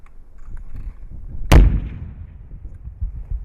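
An AT-4 rocket launcher fires during a live-fire exercise, a single sharp, loud blast that decays into a rumbling tail against quiet outdoor background.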